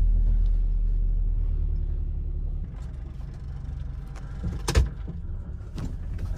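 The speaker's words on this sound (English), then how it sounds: "Starting up the vehicle. Sounds better than it did. Putting it in gear. And backing out of the shop." A van engine idles and rumbles steadily as it is put in gear and reversed out of a shop, with a sharp clunk and a brief rattle partway through and no talking.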